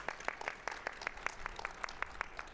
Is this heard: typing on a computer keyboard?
no